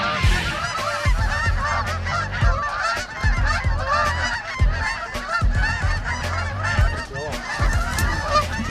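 Flock of Canada-type geese honking loudly and continuously during a Maryland goose hunt, many overlapping calls close by with sharp repeated honks from birds coming in, no talking.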